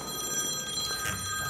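Mobile phone rings with a steady electronic tone, moderately loud over a low background hum, briefly heard alone.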